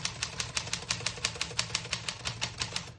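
Brisk, steady typing on a 1938 Corona Silent portable typewriter, about six muted key strikes per second in an even rhythm, close and clear with no talking.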